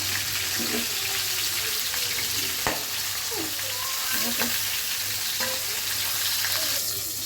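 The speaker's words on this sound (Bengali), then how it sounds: "মাছের মাথাগুলো ভালো হয়ে যাচ্ছে তুলে ফেলবো এক এক করে" Fish heads fry in hot oil with a steady, even sizzle and crackle, broken by a few sharp pops and light utensil clicks; no one speaks.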